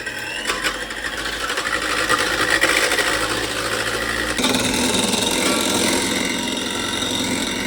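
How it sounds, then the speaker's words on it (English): Hand mixer whipping heavy cream, a steady high-pitched motor whir with gritty beater noise that shifts tone partway through, continuous and close. "so I will just use hand mixer"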